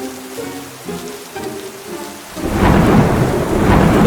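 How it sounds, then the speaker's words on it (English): Simulated rain pours into a darkened hermit crab tank in a staged seaside weather event, a sudden loud, dense rushing downpour that starts partway through after quieter tonal sounds. "I turned off the lights and started to pour down rain."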